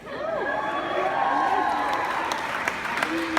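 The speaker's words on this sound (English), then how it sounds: "You can applaud for that, it's worthy of applause." A graduation crowd applauds and cheers during a valedictorian speech in a continuous, moderately loud wash of clapping, with voices and whoops rising over it.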